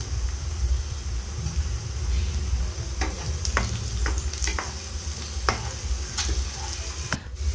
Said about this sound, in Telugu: పెట్టిన ఉల్లిపాయ ముక్కలు వేసుకొని ఒక్కసారి ఫ్రై చేసుకోవాలి